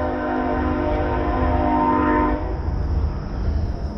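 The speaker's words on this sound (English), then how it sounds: "Train somewhere. I think it has a railroad track over there." A train passes near a railroad track, sounding a long steady horn for about two seconds over a low rolling rumble that continues after the horn stops.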